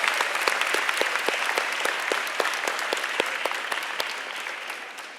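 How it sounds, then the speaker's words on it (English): Steady applause from a crowd at a high school senior awards ceremony, many hands clapping at once, gradually fading toward the end. "Go ahead and stand and give him a round of applause."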